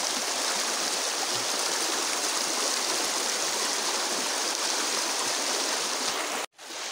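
River water rushes steadily past a campsite in Santa Cruz, Laguna, a dense, constant flow close by, with a brief drop in sound near the end.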